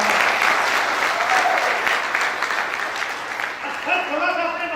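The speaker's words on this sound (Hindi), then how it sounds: "शानदार तालियां के साथ।" An audience at a leadership seminar breaks into sustained applause, a dense wash of many hands clapping that fades slightly toward the end as voices begin to emerge.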